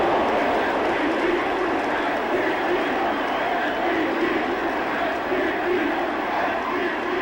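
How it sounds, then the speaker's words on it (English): Scattered crowd cheering at a baseball game in MLB 15 The Show, a steady, dense roar of fans sustained throughout with no clear breaks. "Scattered fans cheering MVP for Abreu"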